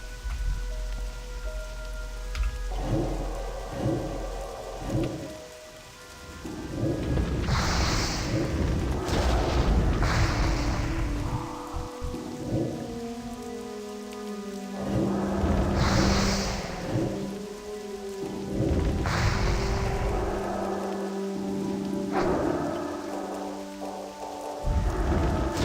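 Rain and thunder in the World of Warcraft Classic video game: a steady hiss of falling rain under repeated deep rumbling thunder rolls, loud and continuous with no speech.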